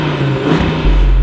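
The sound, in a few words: Audi RS3 Sportback engine revving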